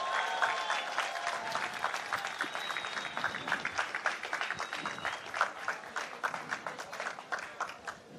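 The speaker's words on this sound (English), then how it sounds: "let's hear it for Tahiti's own, representing France, Mihimana Bray." A crowd at a surf contest awards ceremony applauds the runner-up, Tahitian surfer Mihimana Bray, with steady dense clapping and some cheering that continues throughout.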